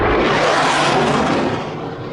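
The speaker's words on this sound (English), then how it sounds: "That sound was the CF-18 Hornet flying overhead" A CF-18 Hornet jet passes overhead at an air display, a loud, broad rushing roar that fills the whole clip and fades only slightly toward the end.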